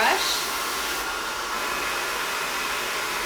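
A hair blow dryer runs close and loud with a constant airy roar while drying hair over a round brush, slightly louder at the start and then steady, alone without speech.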